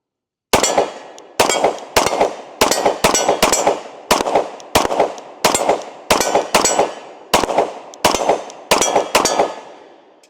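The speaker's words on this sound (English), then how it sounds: "So let's go ahead and take our first shots with it." Twelve sharp, loud gunshots from a Glock 20 Gen 5 10mm pistol firing MagTech ammunition ring out at a steady pace, each with a short decaying echo and no talking between shots.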